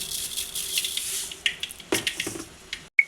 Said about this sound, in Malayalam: എന്നിട്ട് നമുക്ക് കടുവൊക്കെ പൊട്ടിക്കാം കേട്ടോ